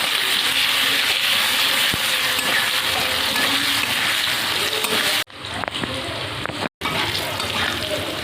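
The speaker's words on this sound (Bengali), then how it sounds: "আলুটাকে আমি ভালো করে ভেজে নেবো" Potatoes with salt and turmeric fry in a pan with a loud, continuous close sizzle and spattering, briefly dropping out near the end before resuming.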